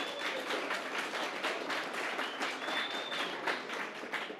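A crowd applauds storage providers at a tech event, a dense, even patter of many hands clapping at moderate volume, sustained through the whole stretch with no speech.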